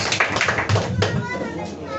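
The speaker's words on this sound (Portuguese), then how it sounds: "Se Deus é por nós, as palmas ao Senhor Jesus." A church congregation claps hands in a dense burst while voices talk and call out over the applause.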